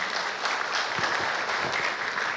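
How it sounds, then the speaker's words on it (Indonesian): An audience applauds Sri Sultan Hamengkubuwono X with dense, steady hand-clapping from a sizeable crowd, continuous and fairly loud for the whole moment, with no voices over it. "Tepuk tangan untuk Sri Sultan Hamengkubuwono ke-10"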